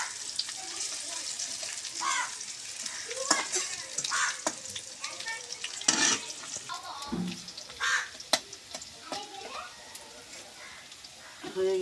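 Chilies, chopped onion, cinnamon and white cardamom frying in oil in a karai, a soft continuous sizzle with stirring clatters and a crow cawing in the background, with some voice nearby.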